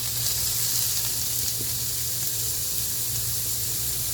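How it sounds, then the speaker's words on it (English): Cubed chuck steak browning in a skillet with a tablespoon of olive oil gives a steady, close sizzle and hiss throughout, with no voices over it. "what we're going to do is brown our beef"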